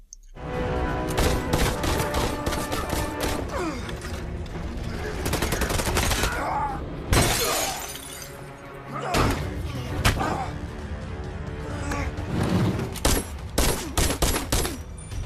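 Rapid bursts of gunfire and heavy slams crash through a loud film action scene about a shopkeeper fighting gangsters, layered over music and voices.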